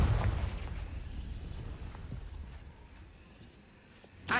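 A fire spell blasts in Hogwarts Legacy: a deep, loud booming burst at the start that rumbles and fades over several seconds, with a sharp second pop at the very end.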